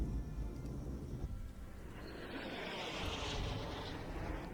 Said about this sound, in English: obviously it's a fucking jet.